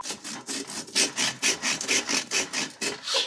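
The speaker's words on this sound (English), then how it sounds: "So after grating all this bread, we're gonna sift it" Dark whole grain bread rubbed against a grater in a steady back-and-forth rhythm of about a dozen rasping strokes, close and fairly loud, with no talking.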